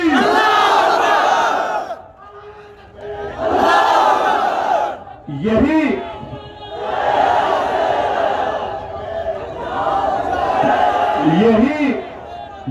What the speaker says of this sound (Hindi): तो जोर से नारा लगाइए